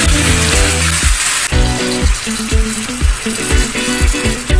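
Chicken backbone sizzles in a pan with onion and garlic, a steady hiss of frying heard beneath louder music with a regular beat.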